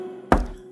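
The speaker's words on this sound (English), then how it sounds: "The door was knocked 3 times." A single sharp knock on a door, close and loud against a quiet background with a low hum.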